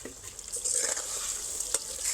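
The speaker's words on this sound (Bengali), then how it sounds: "আবারও কিন্তু নাড়তে থাকবো। চিনিটা গলে যাওয়ার জন্য সময় দেবো।" Mango pickle with sugar is stirred in a pan, a continuous wet, sticky scraping and bubbling with a few soft knocks of the spoon, close and fairly loud with no voices.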